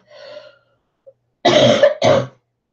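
A throat clearing followed by two loud, close coughs in quick succession, with no talking.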